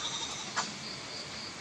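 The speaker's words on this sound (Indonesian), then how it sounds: "Kambing. kambing." A faint, short goat bleat rises briefly out of quiet background hiss, followed by a second brief trace near the end.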